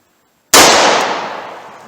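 A single loud, sharp crack from a .38 Special revolver loaded with Buffalo Bore TAC-XP 110 gr full-copper rounds, bursting out of near silence and ringing off in a long fading tail.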